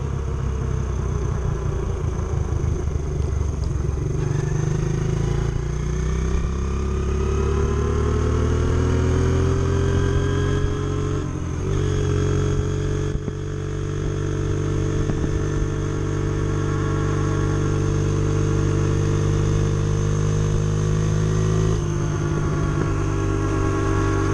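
A Honda XR70 motorcycle fitted with a BBR 88cc big bore kit runs continuously, its small single-cylinder engine droning and revving up and down through gears with a steady buzzing tone.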